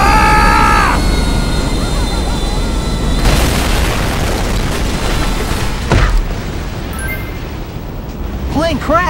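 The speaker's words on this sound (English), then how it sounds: "Plane crash!" A burning airplane in the video game GTA 5 crashes with loud booming explosions and roaring noise, following high cockpit warning tones, with excited voices over the chaos.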